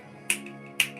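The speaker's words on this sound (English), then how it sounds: "Posh clap." Two sharp, close finger snaps about half a second apart over a quiet tonal hum.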